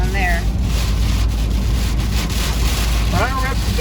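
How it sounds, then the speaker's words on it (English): Strong wind roars and buffets continuously during a night tornado chase across Mississippi, loud and steady throughout, with brief voices talking over it near the start and end. "Oh yeah, getting real windy."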